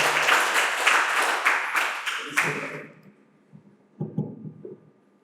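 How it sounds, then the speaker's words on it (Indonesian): A school audience at SMK Negeri 1 Sawan gives a short burst of group clapping that rises loudly then cuts off sharply after two seconds, followed by near-silence and a voice starting to speak. "tepuk tangan untuk kita semua ya"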